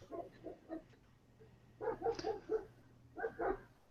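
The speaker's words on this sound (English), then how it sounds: "Somebody's got a barking dog" A dog barks in the background during a podcast-style call, several soft, distant barks arriving in short clusters with pauses between them.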